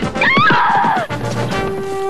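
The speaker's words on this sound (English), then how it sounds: "Giddy up, Cyclone!" A cartoon horse gives a loud, shrill whinny that falls away, followed by a clatter and brief hoofbeat-like thumps in an animated Wild West scene.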